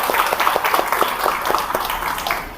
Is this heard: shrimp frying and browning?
no